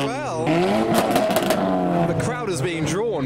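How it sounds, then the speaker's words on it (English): A modified car at a UK car meet revs hard, its engine note climbing and falling in loud, close, escalating bursts with crackling exhaust bangs, while people talk excitedly over it. "The revs and bangs are escalating."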